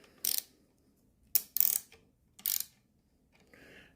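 A nut on the back of a walking foot sewing machine is loosened in three short metallic ratcheting bursts separated by quiet pauses, close and fairly faint, followed by a brief softer rustle.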